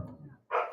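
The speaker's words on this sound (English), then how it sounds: "It's just some other dogs outside." One short, loud bark from dogs outside cuts in after a brief lull, following a low rumbling murmur.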